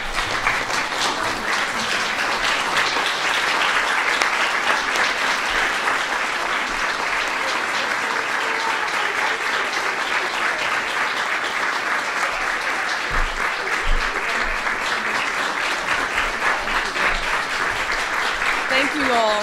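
Audience at the White House applauding steadily and loudly for a long stretch, a dense sustained wash of many hands clapping at an event with the First Lady, with some cheering voices mixed in.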